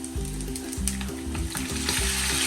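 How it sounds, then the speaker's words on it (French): A hot pan sizzles loudly and steadily as liquid goes in to deglaze it, with a bright hissing spray and rhythmic stirring scrapes underneath, close up and with no voices. "Maintenant, on va déglacer."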